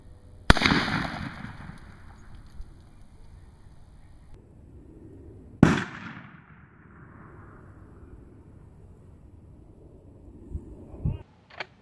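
A shotgun fired at a Christmas tree outdoors: two loud, sharp blasts several seconds apart, each with a long rolling echo, then a softer knock and rustle near the end.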